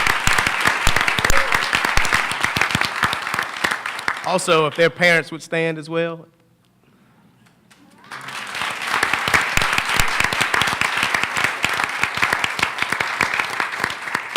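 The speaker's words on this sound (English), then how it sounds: "Give them a round of applause." School board meeting audience applauding, a dense burst of many hands clapping that stops for a short spoken line and a pause, then resumes strongly and continues to the end.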